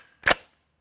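A single suppressed 5.56 rifle shot from a 10.5-inch short-barreled rifle fitted with a Turbo 5.56 suppressor, a brief, sharp, muffled crack with a short tail, isolated and close.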